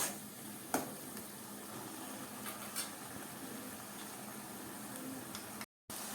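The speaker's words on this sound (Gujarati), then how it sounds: "ડુંગળીની પેસ્ટને પણ આપણે કાચી છે તો સંતળાવા દઈએ" Raw onion paste sautés in a pan for a green pigeon pea dish, a steady soft sizzle with a couple of brief stirring clinks and a short dropout near the end, no voices.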